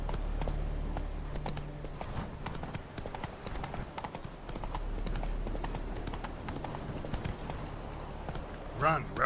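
Roach the horse gallops in The Witcher Wild Hunt, a steady rhythmic clip-clop of hooves running throughout with game music and other sounds layered beneath, and a brief rise near the end.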